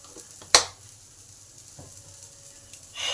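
Spices such as turmeric, cumin and coriander powder sizzle softly in a pan while being stirred, with one sharp scrape or clatter near the start and a quiet, steady fry throughout.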